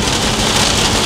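Heavy rain falling outdoors, a loud steady broadband hiss with no breaks and no talking.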